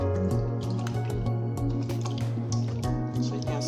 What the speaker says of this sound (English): make sure we wash the tomatoes very well, because we need to wash off the dirt away from the tomatoes